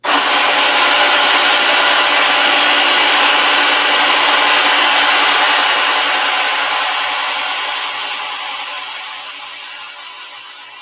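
An electric pump inflates a PEV tire with air, a loud, steady, hissing whir running continuously near the source for about eleven seconds and gradually easing off toward the end, with no talking.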